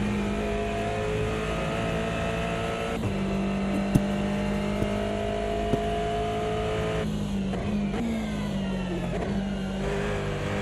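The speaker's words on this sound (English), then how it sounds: "I love that gear shift noise as well." A racing car in a sim racing game: a steady engine drone throughout, with clean gear-shift changes in pitch around the third and seventh to eighth seconds, close and continuous, with no voices.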